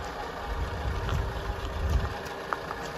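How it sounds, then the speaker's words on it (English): A 1950 Lanchester LD10 saloon's four-cylinder 10 horsepower engine idles smoothly and quietly at close range, a low steady hum with a soft, even rhythm. "Four cylinder Lanchester 10 horsepower engine."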